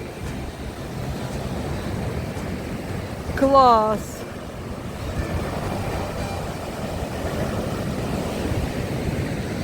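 Sea waves breaking on the Odesa shore in winter, a steady rushing surf with wind buffeting the microphone, one brief tonal squeal in the middle and a short spoken word over the noise.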